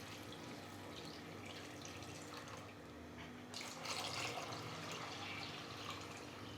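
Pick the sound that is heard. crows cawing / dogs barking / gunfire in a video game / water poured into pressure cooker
water poured into pressure cooker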